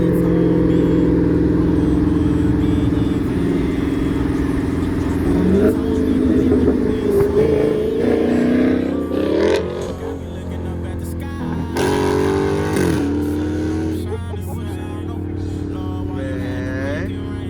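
A loud Scat Pack car engine with an open exhaust, muffler and resonator removed, revs repeatedly, rough and throaty, rising and falling in bursts over a steady idle rumble.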